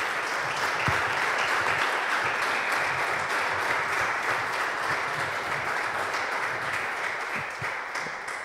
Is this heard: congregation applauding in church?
yes